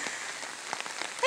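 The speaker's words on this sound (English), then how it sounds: "rain is good. Rain is always good." Steady rain patters on a surface at a garden home, a continuous soft hiss with scattered drop ticks throughout.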